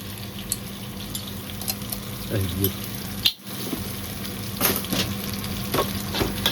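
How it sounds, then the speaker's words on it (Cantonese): Garlic frying in a hot wok with shrimp paste for a water spinach stir-fry gives a steady close sizzle, with a brief flurry of stirring near the middle and a short dip and knock just after it. "咁落啲蒜頭嚟爆一爆啲， 爆一爆啲蒜頭"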